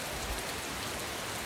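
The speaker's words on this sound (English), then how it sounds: "raining like this all night from what I understand" Steady rain falls outside at a camp on the Appalachian Trail, a dense, even hiss of drops with no voices.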